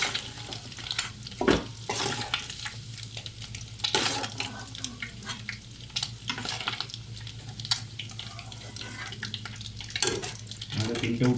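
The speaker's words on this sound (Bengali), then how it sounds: "আমাদের ডিমগুলো একটু হালকা একটু ভাজি নেবেন" Eggs fry lightly in hot oil in a home kitchen, a soft sizzle running beneath clattering spoon scrapes and sharp knocks, with brief watery splashes between them.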